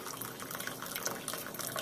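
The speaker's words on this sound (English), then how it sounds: "And we're going to pour it right out." Strong brewed coffee is poured out of a French press, giving a short, steady liquid trickle and splash into a cup, close and fairly quiet, with no talking.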